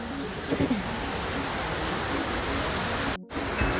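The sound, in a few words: rain at a resort in Lonavala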